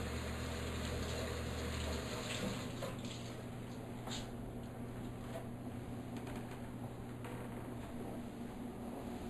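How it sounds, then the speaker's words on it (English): Hot tap water runs steadily onto a rag in a kitchen sink, a soft continuous splashing hiss with faint drips and clinks, heard quietly without talk. "get it wet with good hot water."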